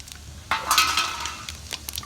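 Whole spices such as star anise, cardamom, cloves and bay leaf sautéing in a pan for country chicken rasam, with a sudden sizzle and some clinks of a spoon against the pan.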